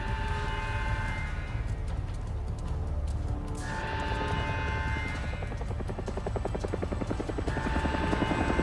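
A helicopter in the video game Avatar: Frontiers of Pandora drones with a steady rotor thrum and engine whine, staying close and loud throughout, its pitch shifting midway as it passes.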